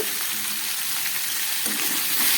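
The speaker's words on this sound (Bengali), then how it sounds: "আবার একটু ভেজে নিই নুন হলুদ দিয়ে" Vegetables with salt and ground turmeric fry in a pan for a fish curry, giving a dense, even sizzle throughout with a faint stirring scrape near the end, no talking.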